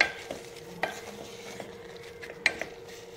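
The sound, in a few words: pumpkin mixture stirred and cooking in pan on low gas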